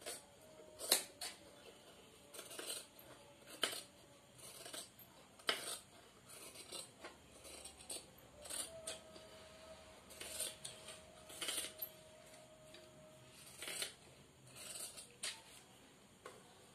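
Scissors cutting fabric for a frock suit, a series of crisp separate snips at an uneven rhythm, close and quiet against a faint background hum.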